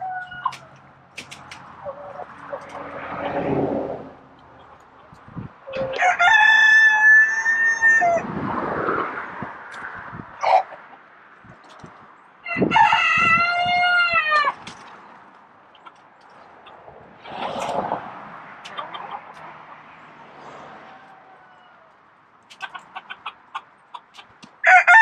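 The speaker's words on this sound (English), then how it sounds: "Here's some chickens." Chickens cluck in bursts while a rooster crows loudly a few times, close by, with quieter farmyard noise between calls.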